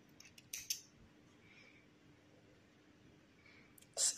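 Scissors snip crochet yarn for an amigurumi frog with two short, crisp cuts, one early and one at the very end, in an otherwise quiet room.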